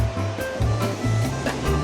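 Waves and strong wind at Na Thong beach on an overcast, rainy day, with steady surf washing and roaring continuously at close range.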